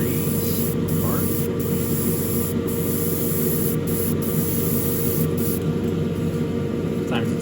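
An airbrush sprays Tamiya XF16 flat aluminium paint onto the parts of a Revell 1971 Boss 351 Mustang model car, a steady loud hiss of air running without a break, with soft handling noises mixed in.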